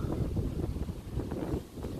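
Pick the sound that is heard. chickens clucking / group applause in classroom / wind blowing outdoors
wind blowing outdoors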